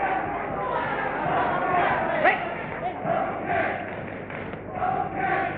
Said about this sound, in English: Here comes the Rudkin chant